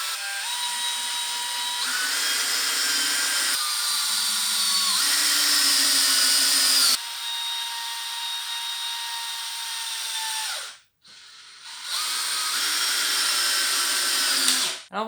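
A power drill drives screws into wood, its high steady whine running in several long bursts with shifts in pitch and a brief pause near the end before it starts again.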